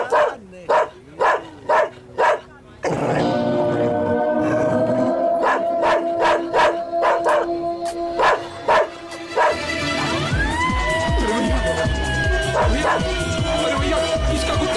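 A dog barks loudly and repeatedly in sharp bursts, then whines and yelps with drawn-out howling tones over a held music note and other background sound, in a Hindi action film scene.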